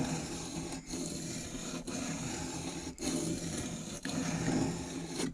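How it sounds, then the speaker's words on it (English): A skew chisel is sharpened with steady rasping, scraping strokes, each pass running about a second with brief pauses between, close and fairly quiet. "it certainly has helped me sharpen this chisel"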